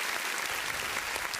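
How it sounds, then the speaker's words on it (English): Steady round of applause from an audience on a podcast, dense continuous clapping at moderate level throughout with no talk over it. "I just wanted to give a round of applause to all of those amazing people"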